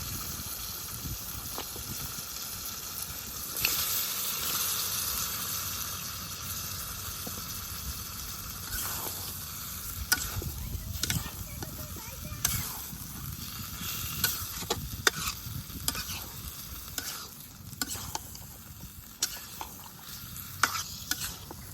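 A spice masala being stir-fried in oil until the oil rises before meat goes in, cooked for a Pohela Boishakh village meal. A constant low sizzle runs under repeated sharp spatula scrapes and clicks that grow busier toward the end.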